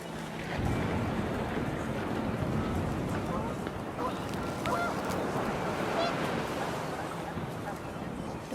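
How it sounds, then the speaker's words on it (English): Panicked geese honking in the game What Remains of Edith Finch, scattered calls over a dense wash of wind and water that fills the whole stretch, fairly loud and constant. "The wind picked up, and panicked geese appeared and quickly went."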